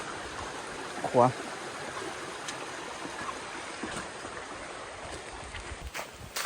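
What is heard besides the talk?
waterfall stream flowing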